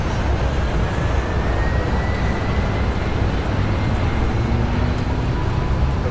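Inside a Boeing 777 airliner cabin just after takeoff from Heathrow bound for Toronto, a loud, steady roar of engines and airflow fills the space without letup.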